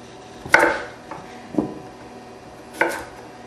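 A knife cuts raw potatoes in half on a cutting board, giving four separate sharp thunks spaced unevenly in a quiet kitchen, with no talking.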